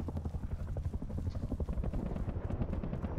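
A helicopter in a video game thrums with a steady, dense rotor chop that stays loud and close throughout, with no speech over it.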